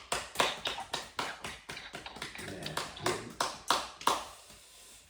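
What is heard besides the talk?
congregation clapping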